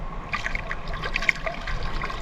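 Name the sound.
strong waves of water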